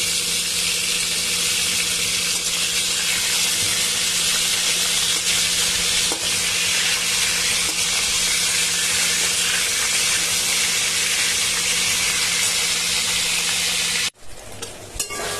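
Whole pointed gourds frying and being stirred with mustard, poppy seed, melon seeds and sour yogurt, giving a loud, steady sizzle with stirring scrapes that cuts out abruptly near the end.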